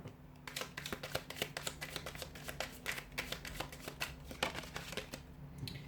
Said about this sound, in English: I'll just give the cards a shuffle